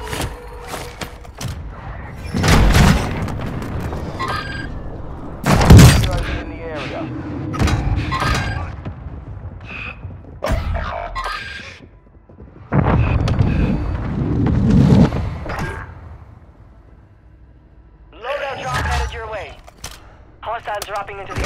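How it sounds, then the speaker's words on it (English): Heavy airstrike explosions in Call of Duty: Warzone go off as several loud, rumbling booms spread over about twenty seconds, mixed with bursts of gunfire and gusty wind noise, with quieter gaps between the blasts. "Hostile airstrike near your location"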